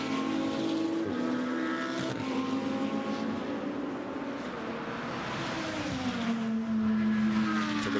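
KTM GT2 race cars run nose to tail while braking at Monza, loud engine notes dropping in pitch as they slow for the first chicane, two overlapping tones sweeping down over a continuous roar.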